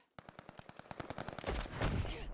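Rapid bursts of video game gunfire ring out in a steady automatic rhythm, loud and close. The shots then blur into a denser roar of heavier blasts and noise toward the end.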